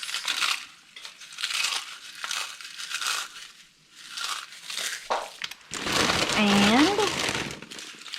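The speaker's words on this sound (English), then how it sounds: "Now, you're going to grab Doritos." Doritos tortilla chips crinkle and crunch loudly near the end, a dense crushing burst after stretches of talk and rustling.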